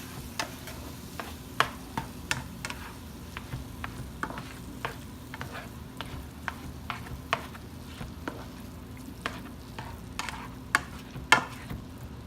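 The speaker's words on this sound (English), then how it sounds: "Mix that around." A spoon stirs beef stroganoff in a frying pan with a soft, steady sizzle, broken by quiet, irregular clinks and scrapes against the pan. No one talks.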